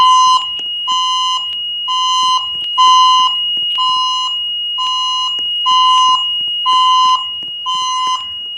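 A building fire alarm sounds during a test, loud and near, repeating a shrill electronic horn pattern in even pulses over a continuous high tone, with no voices.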